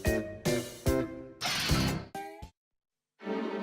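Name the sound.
cartoon doorbell ringing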